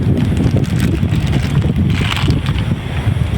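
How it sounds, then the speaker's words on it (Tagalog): Strong wind blowing outdoors in Taiwan, buffeting the microphone with loud, constant low rumbling and gusty roar throughout, with no speech. "Mahangin talaga ngayon dito."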